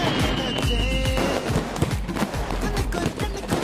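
Firecrackers set off for the Eid festival crackle in a rapid, dense string of loud pops and bangs, bursting continuously close by.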